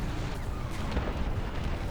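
Tank hit by an enemy shell in War Thunder: a dense, continuous low rumbling blast with booming impact noise filling the short stretch, no speech.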